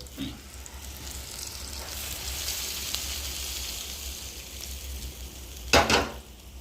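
Hot mustard-seed and asafoetida tempering sizzles as it is poured over dhokla, a soft continuous crackle near the pan, ending with a sharp clank of a utensil.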